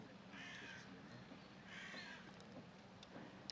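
A crow cawing outdoors in Greece, two drawn-out harsh caws about a second apart, moderately distant over a quiet background, followed by faint short clicks and no talk.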